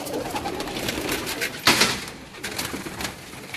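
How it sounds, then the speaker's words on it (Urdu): Swing-breed pigeons cooing inside a cabin, with a steady murmur of coos and a brief louder rustle or flutter midway, close and continuous. "جی جی یہ بھی ان کے جھولوں والے کبوتر ہیں."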